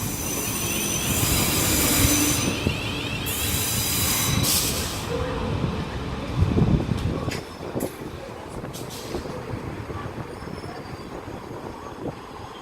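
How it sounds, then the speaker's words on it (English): A South Western Railway electric train, unit 450033, rolls through St Denys station with rumbling wheels, brake hiss and squealing, loud and close at first, then fading to a lower clatter as it passes. "Now approaching is the 1049 South Western Railway service to Portsmouth and Southsea."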